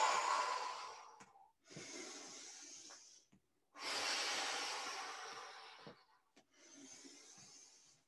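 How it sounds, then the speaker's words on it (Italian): Deep, audible breaths taken during a total body circuit workout, four long close inhales and exhales separated by short pauses, with no speech. "fai dei respiri profondi"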